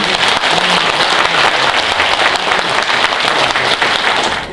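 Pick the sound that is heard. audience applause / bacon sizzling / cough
audience applause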